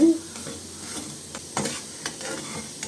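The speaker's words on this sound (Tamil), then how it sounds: "கொஞ்சம் நல்லா ட்ரையாக வறுத்தாச்சு நெய்யில்" Ragi rava roasting dry in ghee for kesari crackles softly, with light scraping stirs and small clicks repeating every half second or so, close and moderately quiet.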